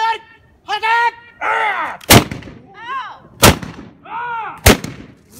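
A Japanese matchlock gun corps fires volleys at a public demonstration by the Ozu domain musket unit, three sharp, loud booming shots spaced about a second apart, with shouted commands and voices in between.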